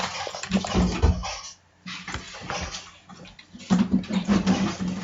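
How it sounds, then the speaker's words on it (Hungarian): Shower water in a Minecraft hotel build runs in a steady hiss, cutting out briefly and then resuming, with a low tonal hum underneath. "megnyomjuk a gombot, elindul a víz, akkor ez azt tudunk fürödni"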